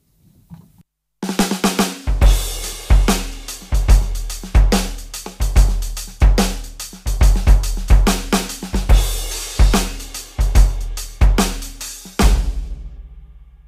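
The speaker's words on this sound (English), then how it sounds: "Or I could add two different sorts of delay and a gated reverb onto a" A Yamaha DTX6 electronic drum kit plays a steady groove of kick, snare and cymbals, loud and close, with delay echoes and gated reverb on the hits, ending in a sustained ring.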